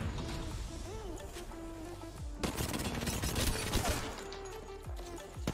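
Wingman pistol fire in the video game Apex Legends, with a dense flurry of sharp shots in the middle after a quieter start, over game effects and a hum.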